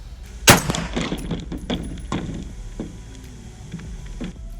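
A single sharp rifle crack, .300 Blackout or 5.56 fired at bowling pins, followed by clattering impacts and scattered knocks as pins fall.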